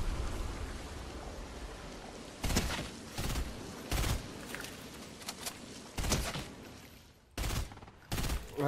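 Bursts of gunfire in the video game Fortnite, several sharp volleys spaced irregularly over a steady hiss, close and loud with no speech.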